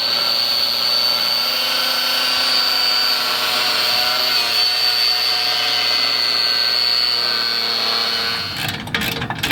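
A power tool cutting through exhaust pipe flange bolts on a Mitsubishi L200, with a loud, steady high-pitched whine running unbroken for several seconds before stopping abruptly, followed by a few clunks.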